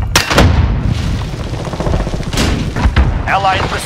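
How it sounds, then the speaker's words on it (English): A heavy boom from a cruise missile strike in Call of Duty Modern Warfare multiplayer, with loud rumbling blasts and gunfire layered over clipped radio-style game voice callouts. "Enemy cruise missile!"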